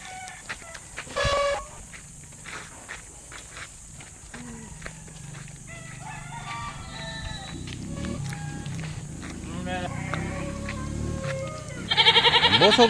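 Pet sheep bleating at intervals on a farm, some calls near and some farther off, with someone speaking in the background and occasional rustling and clatter.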